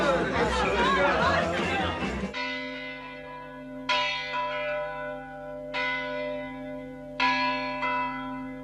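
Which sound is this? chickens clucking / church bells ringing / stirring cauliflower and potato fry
church bells ringing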